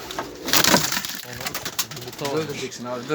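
Pigeons coo and flutter close by in a loft for Turkish pet birds, their repeated soft calls mixed with wing and handling noise while people talk.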